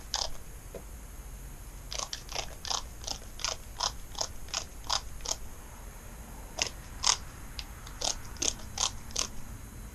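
A torque wrench set to 96 foot-pounds ratchets on a nut during engine work on a 2009 Kawasaki ZX-10R, giving a steady run of sharp, close clicks in quick rhythm with a couple of short pauses.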